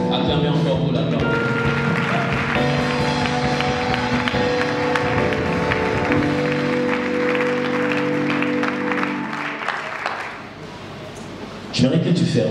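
A worship service congregation applauds in a steady, dense clatter of clapping over sustained music, with voices talking and calling out throughout, the applause fading out near the end before a sudden louder swell returns.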